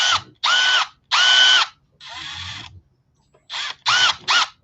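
Milwaukee brushless cordless power tool, a compact drill-type driver, whirring in several short loud bursts of rising and steady pitch, separated by brief pauses, close and alone.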